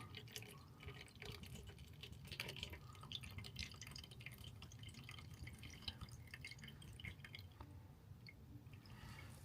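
Faint, irregular drips of liquid from a worm composter fall into a bottle against a soft, steady background hiss.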